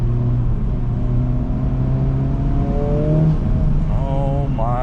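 A Honda Civic Type R FL5 accelerates while being driven on a road in Japan, with the engine note climbing steadily and a shift near the end, heard from inside the cabin under a steady road roar.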